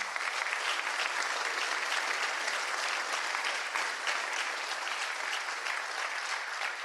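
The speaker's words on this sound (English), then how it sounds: "So let's give him a round of applause." An audience at the Brookline town meeting gives sustained, steady applause, a dense wash of many hands clapping at even loudness throughout.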